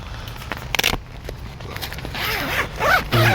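A tent door zipper is opened on a two-man tent pitched on a slope, heard close up as a run of quick rasping zips. Fabric rustles between the pulls.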